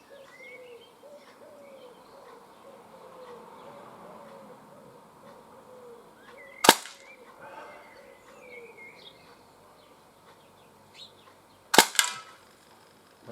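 A Swiss Arms Uzi air gun fires outdoors at cans 15 metres away: two sharp, isolated snapping shots several seconds apart, heard over soft birdsong and cooing in the background.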